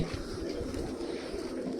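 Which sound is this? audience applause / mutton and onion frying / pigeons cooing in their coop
pigeons cooing in their coop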